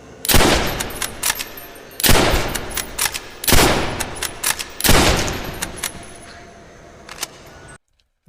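SMR rifle firing in Call of Duty Zombies, sounding as four loud semi-automatic volleys spaced about two seconds apart, each a sharp crack followed by quick follow-up shots and a brief tail, ending in sudden silence.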